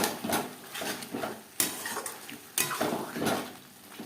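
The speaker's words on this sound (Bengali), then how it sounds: "ধনের গুঁড়ো ও জিরের গুঁড়ো বেশ ভালো করে মিক্স করে দেব" Chicken being stirred with ground coriander and cumin in a pan, a spoon scraping and clinking against the metal in an irregular rhythm, soft and close with no talk.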